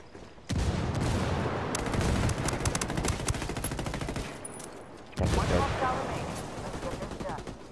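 Heavy automatic gunfire in Ghost Recon Wildlands PvP, loud and continuous with dense overlapping bursts, briefly easing near the five-second mark before a fresh intense barrage.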